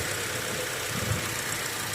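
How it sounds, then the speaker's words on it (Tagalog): A 2021 Changan Eado sedan engine idling steadily at close range, a low even hum with faint mechanical ticking and no voices. "Start muna natin yung makina mga idol."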